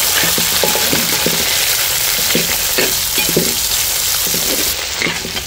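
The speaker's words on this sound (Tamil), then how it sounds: "இப்போ வெங்காயத்தை போட்டுக்கிறோம் சின்ன வெங்காயத்தை" Small onions frying in hot oil in a pan after garlic has browned, a loud constant sizzle with spatula stirring scrapes, recorded close up outdoors in a village kitchen.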